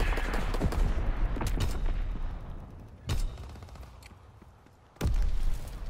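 Mortar rounds firing in Call of Duty WWII, heavy booming blasts thudding out over continuous dense battle gunfire, with two especially loud impacts standing out near the middle and toward the end.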